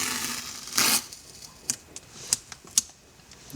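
Tape is peeled off a leather seat of a Lexus ISF: one longer ripping strip, then several short sharp crackling pulls at irregular intervals, close and fairly quiet with no voices.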